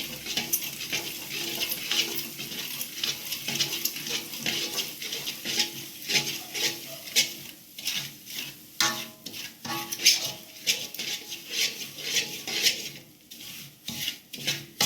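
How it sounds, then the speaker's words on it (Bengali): Semolina stirred in hot ghee with a spoon makes a soft, continuous gritty scraping and rasping against the pan, fairly quiet with irregular strokes and no talking. "ঘি গরম হয়ে গেলে এর মধ্যে দিয়ে দেব সুজি। সমানে নাড়াতে থাকবেন"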